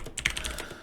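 Keys clatter on a computer keyboard in a quick, uneven burst of clicks, close and fairly quiet, with no voices.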